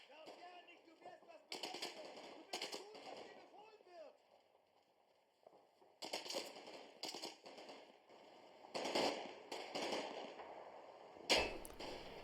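A Pak 38 anti-tank gun fires in the Combat Mission Red Thunder video game, with several sharp, separate shots and bursts of battle noise rising out of quieter ambience.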